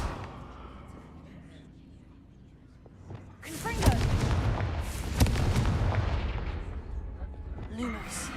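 A single Confringo blasting spell explodes in Hogwarts Legacy, a sharp loud bang after a quiet stretch, followed by several seconds of rumbling debris and crackle, with speech in the mix.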